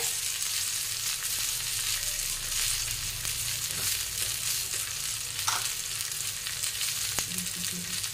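Garlic frying in a hot pan for spicy green chili thecha, a continuous sizzle with stirring scrapes and occasional sharper pops.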